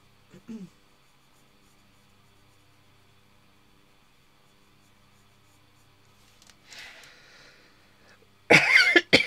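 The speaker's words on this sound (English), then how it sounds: "Excuse my cough." A single short cough close by in a quiet room during a colouring session, followed later by faint rustling and then a louder burst of page handling.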